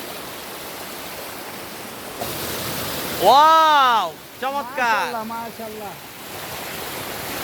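Rushing water at Khoiyachra near Chittagong fills the scene with a steady broadband roar, while a voice briefly exclaims in delight over it.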